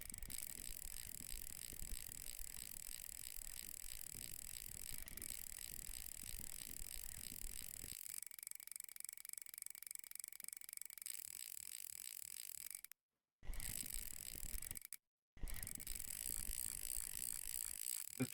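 A fishing reel's friction brake, set too high, clicks in steady, rapid ratcheting bursts while reeling in on Old Burg Lake in Russian Fishing 4, with brief dropouts near the end and no talking.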